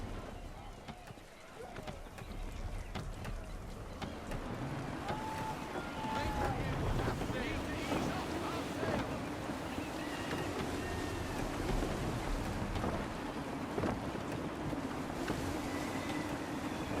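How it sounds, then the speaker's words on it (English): Gusty wind at sea in Assassin's Creed III, a steady broadband rush and buffeting around a sailing ship with waves, continuous throughout while a voice speaks over it. "Wind looks to be shifting. Stay alert, Connor. Gusty winds can be difficult to manage."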